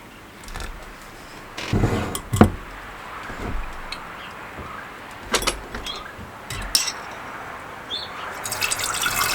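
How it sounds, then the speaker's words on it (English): Hot water is poured into glass jars while making jun kombucha, giving quiet intermittent splashes, drips and light knocks of glass with no talking. "And now we're going to add hot water."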